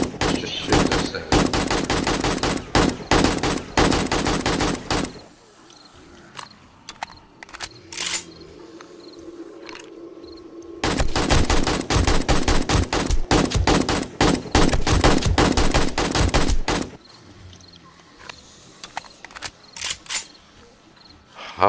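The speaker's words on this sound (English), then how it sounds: "Let's just shoot this there." Repeated gunfire from a gun in the survival game 7 Days to Die, loud rapid bursts of shots in two long volleys separated by a quieter stretch, with a few scattered single shots near the end.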